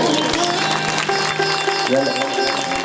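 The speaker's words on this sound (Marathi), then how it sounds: "दोघांसाठी जोरदार टाळ्या होत आहेत." Applause from the audience for two people at a Shiv Mahapuran religious discourse in Pavnar, a dense sustained patter of clapping mixed with voices and other sound.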